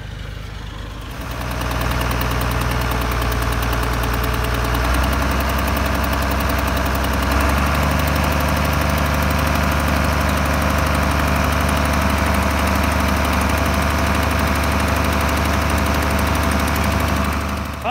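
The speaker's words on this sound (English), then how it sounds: "So we're gonna try use a tractor and try to move this up into the garden" A tractor engine runs steadily and loudly close by, a low throbbing idle with a knocking rumble that shifts pitch slightly a few times while working to move garden soil, with no voices.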